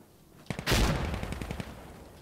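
Rapid burst of machine pistol fire in the shooter game Insurgency Sandstorm, a loud cluster of shots after a short pause followed by a tapering rattle of quicker reports.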